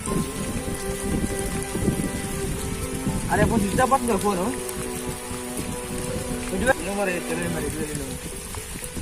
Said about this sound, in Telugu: అరే పదరా చాలా వర్షం కుడుతుందిరా